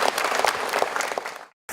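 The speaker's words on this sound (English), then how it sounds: "let's give a big round of applause for our Lady Governor, Right Honorable Julie" Audience applause at a quiz opening ceremony in Goroka, a brisk burst of clapping that fades, cuts to silence, then picks back up briefly.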